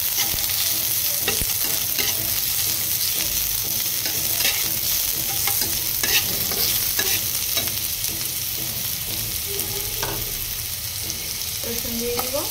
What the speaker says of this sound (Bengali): মরিচগুলাকে ভেজে নেব ধনিয়া পাতা দেওয়ার সাথে ভর্তা করার জন্য।